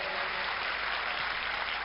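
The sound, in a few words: audience applauding Raju Srivastava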